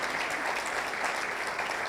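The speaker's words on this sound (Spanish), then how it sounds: "Dale ese aplauso al Señor" A church congregation claps together in a dense, steady burst of applause, filling the room evenly for a short stretch with no voices on top.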